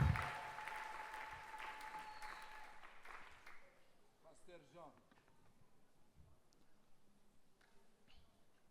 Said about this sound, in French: Continue à applaudir le Seigneur pour ce qu'il a fait.